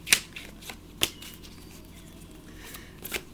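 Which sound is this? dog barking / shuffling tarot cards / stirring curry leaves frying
shuffling tarot cards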